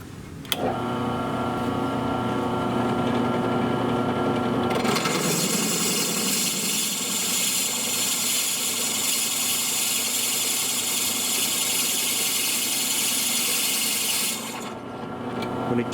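A drill press motor runs steadily, then a louder high whine of a 1/4 inch bit drilling into a metal fitting continues for about ten seconds before stopping.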